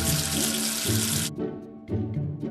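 A running tap rinses soap off a number figure: a loud, steady rush of water that breaks off briefly and then returns in short gushing bursts, with no voices.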